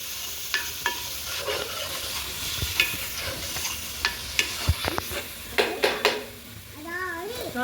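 Six green chillies and curry leaves sizzle steadily in a pan while a spatula stirs them, scraping and tapping in irregular clicks. A voice briefly speaks near the end.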